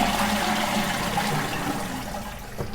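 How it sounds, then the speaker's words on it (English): Water drains from a Geberit toilet tank being descaled, making a continuous loud rushing, gurgling flow like a flush that carries on throughout and eases slightly toward the end. "I'm going to drain the tank."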